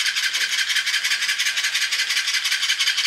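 A toy eagle hung from a rod-like pole flaps and rattles, making a quick, regular, papery clatter that pulses steadily and close up, with no talk.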